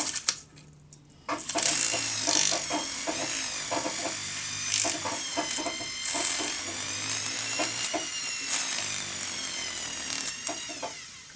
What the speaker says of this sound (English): you can use your split mandrel on the inside on your handpiece to do the inside of the join